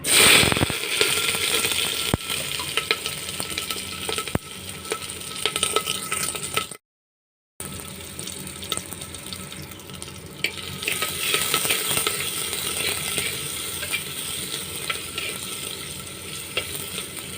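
Steady sizzling of onions, green chilies, curry leaves, ginger and garlic frying in hot oil, with occasional stirring clatter and brief pops, continuous and fairly close, no voices.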